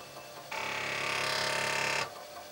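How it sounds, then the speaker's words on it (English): Commodore CBM floppy disk drive grinding harshly while reading a directory, a steady mechanical rasp with a fine repeating texture that starts abruptly, holds for about a second and a half, then cuts off, close and fairly loud with no talk. "all I got was a horrible sort of grinding sound"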